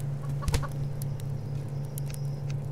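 Chickens cluck in the survival video game Subsistence, a few short clucks near the start over a steady low hum of background game ambience.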